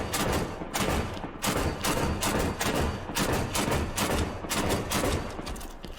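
Rapid gunfire from a DMR with an extended magazine in Halo 5 on a North Pole map, loud, dense shots in continuous bursts with only brief gaps, close and alone.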